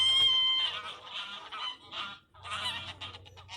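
Geese honk noisily and repeatedly in a park, a cluster of close, fairly faint calls coming in bursts with short gaps between them, no talking.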